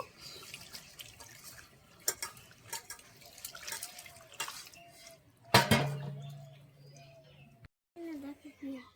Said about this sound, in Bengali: লাউ পাতাগুলো এখন ধুয়ে নেব